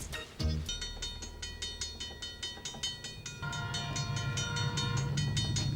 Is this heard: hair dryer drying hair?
no